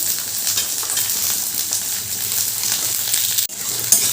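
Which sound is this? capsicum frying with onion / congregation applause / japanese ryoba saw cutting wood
capsicum frying with onion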